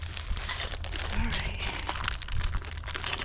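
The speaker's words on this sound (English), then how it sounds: "Open the plastic bag." Plastic crinkles and rustles close up in short bursts as a bag is handled and pulled open.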